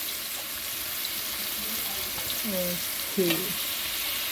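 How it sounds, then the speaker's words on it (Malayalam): Ginger, green chilies and shallots sauté in hot oil with a steady, faint sizzle and occasional stirring scrapes, as a voice speaks briefly in the background. "ഇത് നന്നായിട്ട് ഇനി വഴറ്റിയെടുക്കണം അല്ലേ? ഇങ്ങനെ ഫ്രൈ ആക്കി എടുക്കണം."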